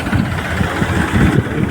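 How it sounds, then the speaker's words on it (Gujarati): A tractor engine idling nearby, a low rumbling throb with a rough, pulsing rhythm that holds steady throughout. "ટ્રેક્ટર આગે છે"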